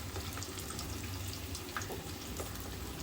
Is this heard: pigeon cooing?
no